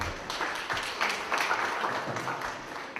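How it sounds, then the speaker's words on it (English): An audience at a live show breaks into applause, a dense patter of many hands clapping at moderate distance for about three seconds, fading slightly at the end. "Ladies and gentlemen, please, a round of applause for him."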